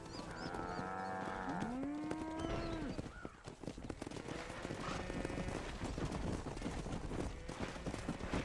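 Cattle lowing in the video game Red Dead Redemption on a ranch, several loud close moos with a drawn-out bellow, over hoof clip-clops and a busy livestock background.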